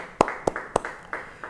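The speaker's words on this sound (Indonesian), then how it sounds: "yang setuju beri tepuk tangan bagi dia" A few scattered handclaps at a church Bible study session, about five sharp claps spaced unevenly and fairly close, thin and sparse rather than full applause.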